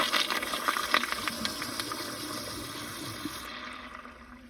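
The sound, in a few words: 2004 American Standard Cadet pressure assist toilet flushing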